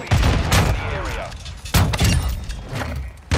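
Shotgun blasts in the video game Call of Duty: Modern Warfare II, three sharp, loud booms spaced over a few seconds, with voices talking in between.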